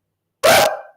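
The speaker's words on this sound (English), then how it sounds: "I got to shut these dogs up." A single dog bark, close and loud, bursting out sharply and trailing off quickly, with no talking around it.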